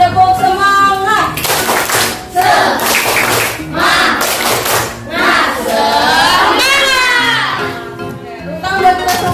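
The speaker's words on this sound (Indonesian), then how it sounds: "Baik anak-anak, sebelumnya tepuk semangat." Schoolchildren in an Indonesian classroom do a spirit clap and cheer, loud chanted voices in unison with rhythmic clapping bursts, separated by short pauses, close and lively.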